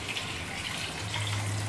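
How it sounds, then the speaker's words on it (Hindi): Water gushes into a cooking pot of soaked chickpeas, a steady close rushing pour with a low rumble filling the vessel, alone for under two seconds. "अब इसमें मैं डाल देती हूँ पानी"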